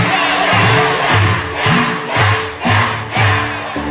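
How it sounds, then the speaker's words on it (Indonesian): Studio audience on an Indonesian TV talk show breaks into loud rhythmic applause and cheering, swelling in repeated bursts roughly every half second for several seconds with no talk over it. "Baik, tepuk tangan"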